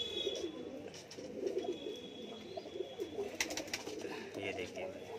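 Pigeons coo softly in a steady low murmur close by, repeated rounded calls running throughout, with faint higher chirps now and then.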